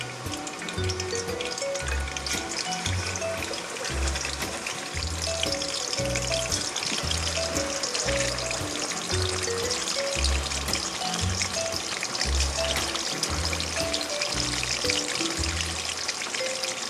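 A tanigue fish steak fries in a pan with a steady, dense sizzle and crackle that runs on without a break, close and fairly loud, with no talking over it.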